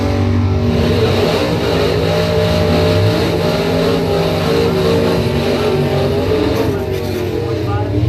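Bracket drag racing cars, including Woodstar Lane's 016, launch from the line at a points event, loud engines roaring steadily and close throughout with a PA announcer talking over the noise.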